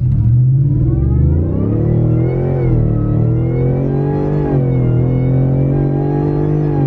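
A pickup truck's engine roars steadily as it accelerates hard from a standstill on a track, its pitch climbing smoothly under constant full throttle for several seconds.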